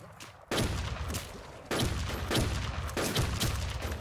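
Rapid video-game gunfire hammering at an enemy's shield, loud and close, in dense sustained bursts with brief gaps, a short quieter lead-in before the shooting starts.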